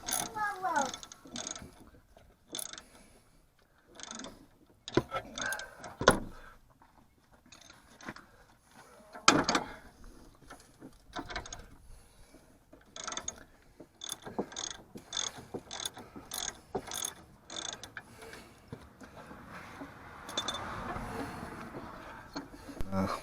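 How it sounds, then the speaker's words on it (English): Clicking ratchet and metallic tool sounds come from removing the anti-roll bar linkage on a Land Rover Discovery 2 during a lift kit fitting, with irregular bursts of wrenching and clanks at moderate distance. "I'm just starting by removing anti-roll bar"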